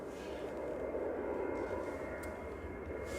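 A Ryanair jet departing Manchester Airport, its engines a steady broadband roar holding constant and fairly loud throughout, with no voices over it.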